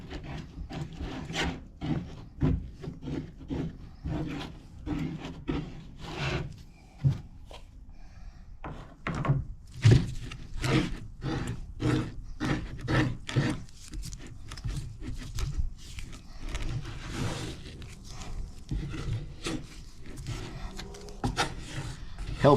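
Thick putty filler stirred with a paint stick during a Custom 260 Shamrock restoration, giving a steady run of soft scraping, rubbing and knocking against the container, close up and with no talk over it.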